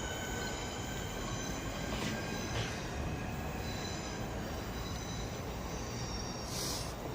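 A Class 465 electric train pulls away from Dartford station, its steady rolling rumble and hum continuous and fairly close, with faint wheel squeal and high tones above the broad wash of noise.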